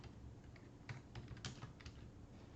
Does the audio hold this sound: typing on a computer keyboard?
yes